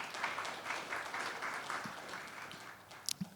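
Audience applause at a policy event on India after its elections, a moderate, steady patter of many hands that thins slightly, with a few sharp knocks near the end.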